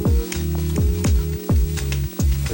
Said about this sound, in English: add in the rice and egg, and again, mix the contents